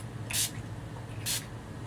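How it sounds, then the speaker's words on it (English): Two short, close hissing bursts of All Nighter makeup setting spray about a second apart, crisp and airy against a quiet room. "I'm just going to use some all-nighter setting spray"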